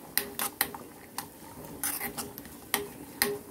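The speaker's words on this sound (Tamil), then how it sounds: "தேவையான அளவு நெய், முந்திரி போட்டு ஃப்ரை பண்ணிக்கோங்க" Cashews frying in ghee in a kadai while a spoon stirs them, with sharp clinks and scrapes of metal on the pan over a faint sizzle, close and intermittent.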